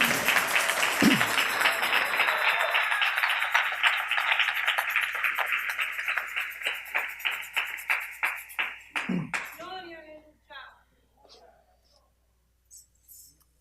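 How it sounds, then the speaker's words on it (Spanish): A crowd claps and applauds, the clapping gradually thinning into scattered, fading claps before trailing off to near silence. "Dele un aplauso al Rey."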